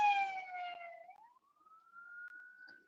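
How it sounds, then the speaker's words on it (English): An ambulance siren passes nearby on a highway in a Wyoming whiteout, its tone sliding down in pitch as it goes by, then holding a steady, fainter tone into the distance. "Now the ambulance is about to pass me on the left right now."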